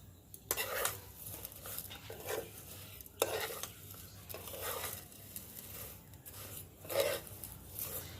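Sugar being stirred into vermicelli in a pan for sweet jorda semai, heard as quiet, intermittent scraping and stirring strokes against the pan with a faint sizzle between them.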